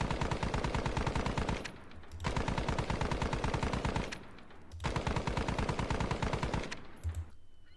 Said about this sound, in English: They could lay down like machine gun fire from afar and try and suppress this unit.